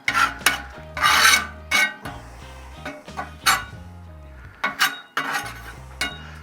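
A metal spatula scrapes a hot cast iron pan while making bacon double cheeseburger smash burgers, giving a series of harsh rasping strokes with light clinks, some drawn out and some short.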